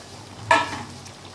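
Soybean chunks and eggplant dropped into a sizzling pan of mixed vegetable curry: one sharp splashy hiss near the start that fades into softer frying, with a light utensil clink later, close by.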